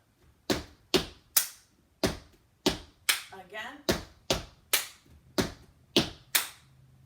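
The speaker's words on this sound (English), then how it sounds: "you're going to start with a stamp, stamp, clap, stamp, stamp, clap" Tap dance basics combo of stamps and claps from a tap tutorial: about a dozen sharp, loud percussive hits in a steady repeating stamp-stamp-clap rhythm, with a brief spoken word partway through.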